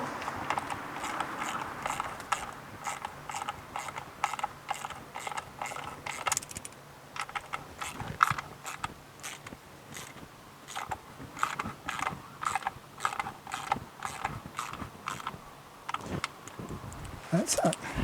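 Ratchet working on the spark plugs of a Mitsubishi 3000GT engine, a run of quick clicking strokes repeating steadily through the clip, close up, with light talk in the background.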